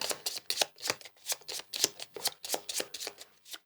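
Riffle-shuffling a deck of playing cards during a solo tabletop game, a quick string of crisp, papery bursts in steady rhythm, close and clear with no talking.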